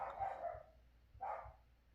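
A dog barks in two loud, close bursts about a second apart, with a quiet pause between them and no talking.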